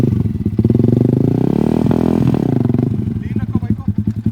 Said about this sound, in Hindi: स्पिन कराना है बाइक को, पावर से घुमाना है हमें।